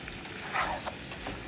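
A pan of lightly spiced fish curry, made with fried rohu pieces, stirred briefly, giving a soft, even sizzle with a few faint scraping touches, close and steady, with no talking.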